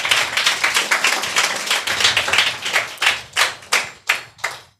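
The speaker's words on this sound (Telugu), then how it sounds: "చప్పట్లు కొడదామా?" A church congregation at IPC Church, Nandikotkur, claps hands in a fast, steady rhythm, with dense overlapping claps that thin into a few louder, separate claps near the end.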